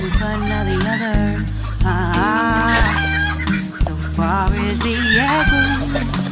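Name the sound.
chickens and roosters clucking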